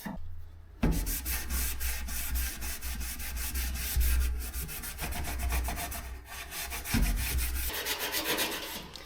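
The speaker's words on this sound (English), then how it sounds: "This is just a E-coat, so I gotta scuff that up." Sandpaper scuffing an E-coated car body panel on a 1967 Nova, a steady close rasping rub that runs continuously with brief pauses and strokes, no talking.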